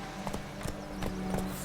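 Roach, Geralt's horse in The Witcher 3, gallops in a brief burst of fairly faint, rhythmic hoofbeats, evenly spaced over a low steady game drone.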